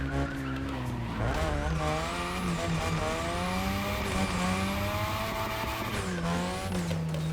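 Drift-spec car tires squealing and skidding in the racing game The Crew Motorfest, long sliding screeches rising and falling over a loud engine for several seconds, with no voices.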